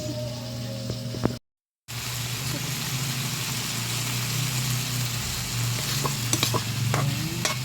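Fish frying in a pan of oil gives a steady close sizzle, broken by a short dropout, with a low hum underneath and occasional scraping clicks; no talk.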